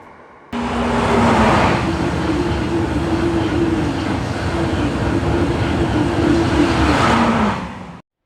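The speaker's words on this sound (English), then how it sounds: "Good morning from London Paddington Station at the very early time of 6 AM." Railway station ambience at London Paddington early in the morning, with a steady loud rumble of a train and a sustained low engine hum filling the space, continuous from start to near the end.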